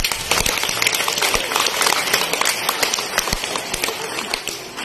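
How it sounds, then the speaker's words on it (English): Crowd clapping at an outdoor sea lion show, a dense, loud clatter of many hands that keeps going without a break, with no voices heard over it. "Clap your hands!"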